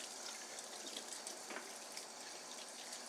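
Reusable Keurig coffee filters being rinsed under a running tap, a steady broadband hiss of flowing water with faint splashing changes throughout, fairly quiet and with no talking.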